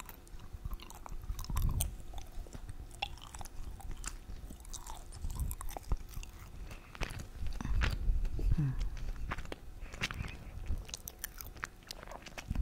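Aged mimolette cheese is chewed close up in soft, moist bites with a few faint crunches, spaced irregularly over a quiet background.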